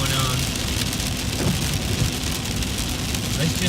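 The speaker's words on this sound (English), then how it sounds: "We're getting hammered with the rain again, but this time, as you can see, we got a whole lot of lightning going on." Heavy rain pours steadily during a thunderstorm at a hog hunting camp, a dense continuous hiss of drops hitting surfaces without letup.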